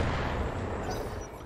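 Mech weapons fire in the Battletech game, a dense, rumbling barrage of heavy artillery-like booms that blends into one continuous roar across the short burst.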